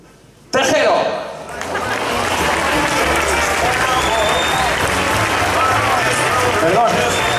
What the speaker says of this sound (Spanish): Fuertísimo, fuertísimo aplauso